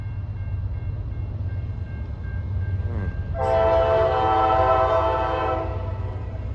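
Norfolk Southern freight train passing near Gaffney, South Carolina, with a low steady rumble of rolling cars throughout; the horn blasts loudly with a chord partway through and holds over the passing noise.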